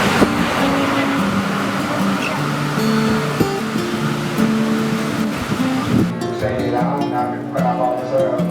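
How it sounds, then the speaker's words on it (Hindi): A river rushes steadily nearby on a drive between Shimla and Manali, a broad continuous roar of flowing water mixed with passing vehicle noise and a light breeze, loud and unbroken throughout. "जहां पर पास में बहती हुई नदी और ठंडी ठंडी हवा बिल्कुल ही मन को मोह रही थी।"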